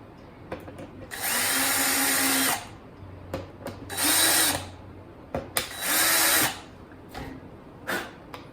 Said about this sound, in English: do the same thing with our little pointy drill